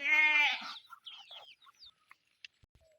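Farm chickens in a rural Marinduque village: one loud drawn-out call opens, followed by scattered short clucks and chirps that fade into near silence, with faint clicks at the end.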